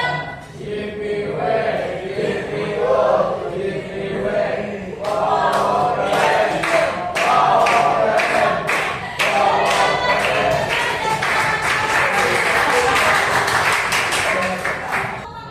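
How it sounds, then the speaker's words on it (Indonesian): A school class gives a group clap called 'tepuk wow' for a student group: loud rhythmic clapping from many hands, with sharp repeated bursts and some voices mixed in. "berikan tepuk wow"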